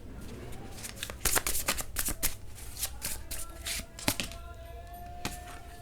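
Tarot cards riffled and shuffled at close range in a steady run of crisp bursts, then a few sharper snaps as cards are laid down, with no talking over them.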